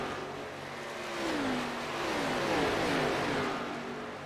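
A race car engine from a video game at Michigan International Speedway, revving in a steady, rising and falling drone with sweeping pitch, loud and continuous throughout.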